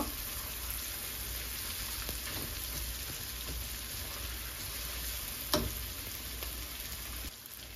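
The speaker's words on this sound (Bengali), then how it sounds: "তো এখন আমি ভাজতে ভাজতে একেবারে লাল করে নিব, লাল লাল করে ভেজে নিব।" Potatoes frying in oil in a pan until browned, a steady dense sizzle that runs through the clip with no voice, plus a single brief clink of utensil against the pan.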